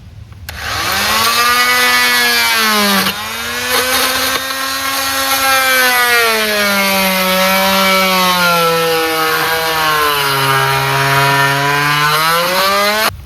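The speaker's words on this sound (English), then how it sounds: "I'm literally having to cut the handle off the hose bib here." A power tool cuts through the handle of a sillcock hose bibb valve with a loud, continuous whining drone that rises and falls in pitch as the load changes, very close.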